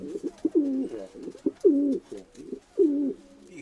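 Pigeons coo in low, rolling phrases, three distinct bursts with short pauses between, fairly close and clear with no talking.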